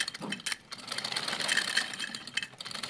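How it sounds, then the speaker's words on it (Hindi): A sewing machine runs after its nut has been oiled and tightened, a quieter, steady mechanical whir with a rapid needle rhythm heard up close for a few seconds, no talking. "मशीन देखें कितनी इसकी आवाज़ कम हो गई है"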